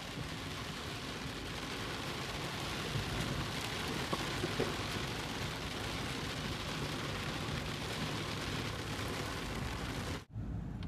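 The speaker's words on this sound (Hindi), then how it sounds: "ये वाटरफॉल से पहले ऊपर से रेनफॉल बहुत हो रहा है भाई।" Heavy rain pours steadily near the Yana Caves in Karnataka, a dense continuous hiss that stays even for about ten seconds before cutting off abruptly, with no voices.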